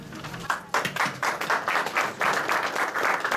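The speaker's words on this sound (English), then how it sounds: "y'all got to give yourself a round of applause" Press conference audience applauding after a boxing match, a fairly small group clapping in distinct, rhythmic bursts, close and moderately loud, with the individual claps audible.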